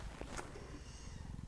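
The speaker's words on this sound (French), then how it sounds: "j'ai mon petit chat qui s'est installé du coup et que peut-être vous vous entendez ronronner" A small pet cat settled close by purrs in a low, rapid, rhythmic rumble that continues evenly throughout, soft but steady.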